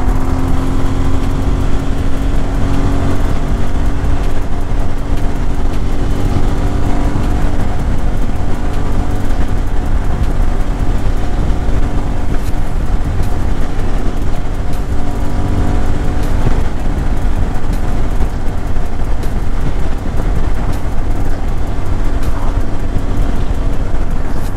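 A Suzuki V-Strom 650 adventure motorcycle drones steadily while riding with a group along the Great Ocean Road in Victoria, the loud exhaust and engine note continuous and mixed with wind rush, with no speech.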